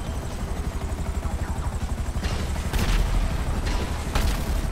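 Gunfire in GTA, a fast pulsing burst of shots over a low droning engine-like rumble, followed by a few louder sharp cracks that stand out against the steady background.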